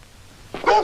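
Restless dog giving a single short bark at the very end of a quiet moment, fairly close and clear.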